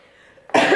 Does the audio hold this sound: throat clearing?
yes